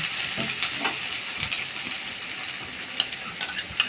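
Garlic paste sizzles and fries in hot oil in a home kitchen while being stirred, a soft continuous hiss with occasional faint scraping taps, fairly quiet.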